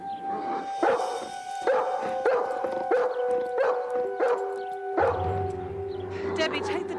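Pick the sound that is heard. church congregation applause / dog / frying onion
dog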